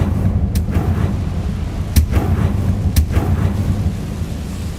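Incendio fire spell in Hogwarts Legacy, heard as three sharp, bright bursts spaced about a second apart over a low rumbling game ambience.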